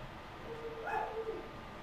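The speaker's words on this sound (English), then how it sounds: "Hopefully y'all can't hear that damn dog barking." A dog barks faintly in the background during Genshin Impact gameplay, a short muffled yelp or two under a steady hum.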